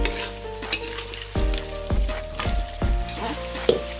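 Mutton curry with potatoes being stirred in a sizzling pot, oil frying steadily beneath irregular scraping and clattering strokes of a spoon against the vessel, close and clear.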